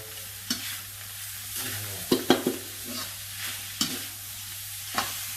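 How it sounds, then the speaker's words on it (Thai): Field rat with sour bamboo shoots is stir-fried in a hot pan, with a low sizzle broken by sharp scrapes and clatters of a spatula against the pan at irregular intervals, with no talk. "แล้วก็ผัดครับผมผัดจนกว่าหน่อไม้ จะออกสีเหลืองๆนะครับ ผัดให้หน่อไม้เปรี้ยวมันสุกนะครับ"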